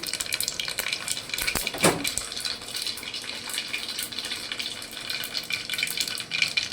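About 1.5 teaspoons of mustard seeds sizzle and crackle in hot oil for dal baati tempering, with a steady hiss and scattered pops, close up, with one brief clatter early on.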